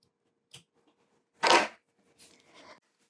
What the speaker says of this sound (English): we're going to want to cut this binding piece right along this edge